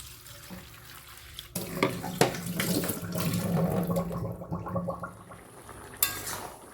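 Tap water runs steadily over freshly cut fish in a kitchen sink, a continuous splashing flow with light handling clatter, fairly close and without talk.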